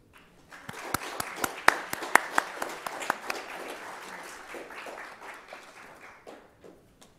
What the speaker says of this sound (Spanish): Démosle, por favor, un caluroso aplauso a nuestra conferencista.